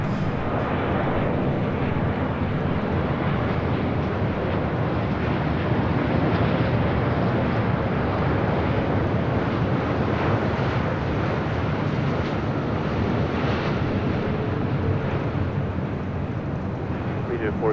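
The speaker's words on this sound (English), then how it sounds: "Final approach coming in from London Heathrow." An airliner from London Heathrow on final approach at LAX, a steady loud broadband jet roar holding evenly for the whole stretch, with no pauses or breaks.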